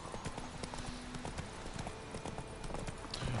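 Roach the horse trots in The Witcher 3, with steady rhythmic clip-clop hoofbeats on the ground, fairly quiet and close, over faint background ambience.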